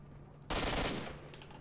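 A single burst of automatic gunfire in S.T.A.L.K.E.R. Shadow of Chernobyl, a loud, sharp crack that rings briefly and tails off into a low game hum.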